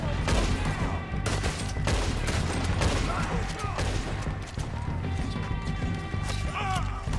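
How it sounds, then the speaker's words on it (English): Gunfire in the Western game Red Dead Redemption 2: loud, rapid overlapping gunshots and crashing impacts in dense bursts, continuing through the whole stretch. "who's shooting at me?"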